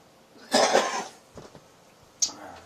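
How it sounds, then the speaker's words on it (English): One harsh, close cough bursts out, followed by a faint throat noise and a small clink. "Sorry, I have this cough thing still."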